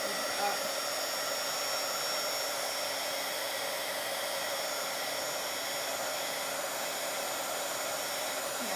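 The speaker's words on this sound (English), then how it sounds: "So I'm gonna hold this like this, grab my heating tool." A heat embossing tool blowing hot air onto embossing powder on paper doilies, a steady loud whirring hiss held evenly throughout, with no talking.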